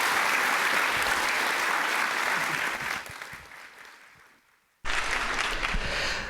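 Conference audience applauding, dense steady clapping from a large crowd that fades out, falls silent briefly, then resumes abruptly.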